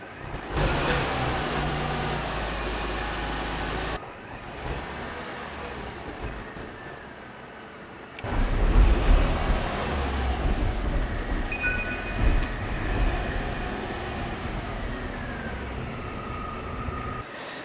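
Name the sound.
car driving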